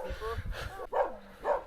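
A dog barks a few times at moderate distance in the snowy Peruvian mountains, short yelping calls with a brief gap between them, set against faint outdoor ambience.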